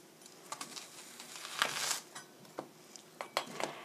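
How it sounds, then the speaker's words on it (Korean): A knife chops an onion on a cutting board, giving scattered sharp taps and clicks at an irregular pace, fairly close and quiet with no voices. "채소를 썰어 보겠습니다. 채소는 먼저 어니언, 양파"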